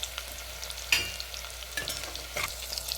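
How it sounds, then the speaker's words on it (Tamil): Onions with green chilli and a little salt sautéing in a pan, a steady soft sizzle with scraping stir strokes, one sharper clatter near the start, close and moderately quiet with no talking. "வெங்காயம் நல்லா வதங்கிட்டு"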